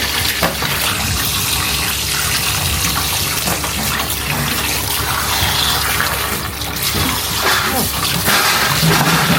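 Water runs steadily from a tap while fish is washed, a loud continuous splashing and gushing that stays close throughout.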